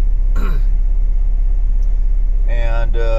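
A 1985 Isuzu PuP 4x4 pickup being driven, its steady low engine and road rumble running throughout, with a person talking over it near the start and end.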